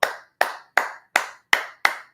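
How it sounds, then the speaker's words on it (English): Six single hand claps, close and crisp, in a slow even rhythm with silence between each. "I give you a clap for that one"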